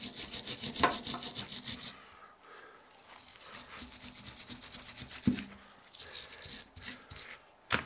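Scrubbing and rubbing on a Lotus Elan M100 rear brake caliper from 1989–94, a dry scratchy brushing that comes in uneven strokes close up, with a couple of sharper knocks and no talking.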